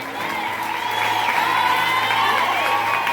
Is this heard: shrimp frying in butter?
no